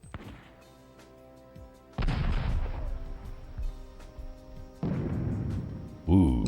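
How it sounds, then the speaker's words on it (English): Cannon fire in the Risk video game on PSX, two heavy rumbling blasts with crashing tails over a background music bed, then a brief bright effect at the end. "I'd still fire that cannon at that that large army that they have there anyway"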